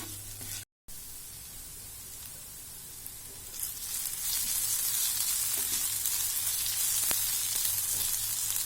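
Chopped onions salted and sautéing in a pan for a Kerala-style sardine roast, a steady close sizzle that grows louder and brighter partway through, with a short dropout near the start and no talking.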